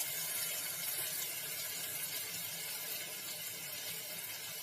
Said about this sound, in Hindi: यही जो स्पून है देखिए, इसी से ही हमने पानी डाल दिया